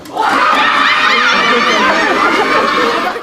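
A group of teenagers shouting and yelling together, a loud, dense wall of overlapping young voices that fills the whole short moment without a break.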